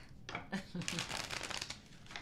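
Tarot cards are shuffled in a few quick riffling bursts, soft papery flutters and crinkles close by, with a voice speaking over them.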